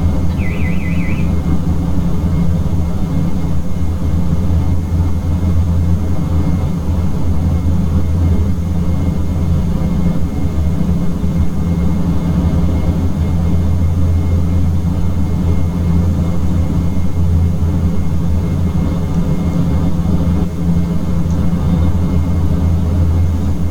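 Steady, loud drone of twin turboprop engines on a Dash 8 Q400 airliner in a flight simulator game, a constant low hum with a brief high beeping tone near the start, continuous throughout without talk.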